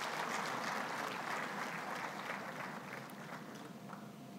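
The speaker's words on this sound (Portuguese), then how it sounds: "Mais uma vez, uma salva de palmas para o nosso ilustre orador." An audience applauds a speaker at a formal conference, steady dense clapping from a crowd that continues throughout and tapers slightly toward the end.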